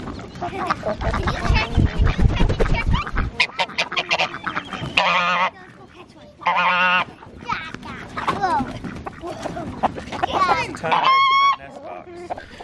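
Ducks and chickens let out of their cage into a yard with a muddy puddle, a flurry of close, loud quacks, honks and clucks in busy overlapping bursts, with people talking among them.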